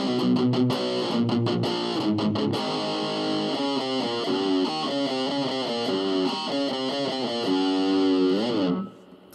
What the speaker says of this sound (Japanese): まあ試しにメタルゾーンを弾いてみると